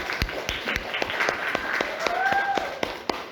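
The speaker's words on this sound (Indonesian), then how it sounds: "tepuk tangan buat kita semua" Indonesian school class applauding at the end of a lesson: scattered, uneven hand claps, moderately close, with a voice briefly heard over the clapping.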